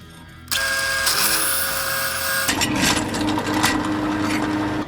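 A drill motor starts abruptly and whines at high pitch, then drops to a lower grinding tone as it bites into knife steel, drilling holes and running continuously.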